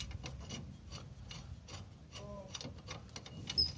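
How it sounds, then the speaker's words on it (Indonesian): Bolts are worked loose on the rear brake drum of a Toyota Agya, a steady metallic rasping and ratcheting that repeats in short rhythmic strokes, close by and moderately quiet. "kita lepaskan bautnya"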